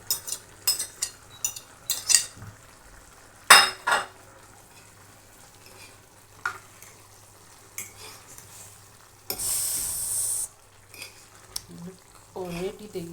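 Peppers and instant noodles going into a pan for stir-frying: scattered clinks and scrapes of a utensil, a brief loud sizzle burst, and light stirring, close up with no voices.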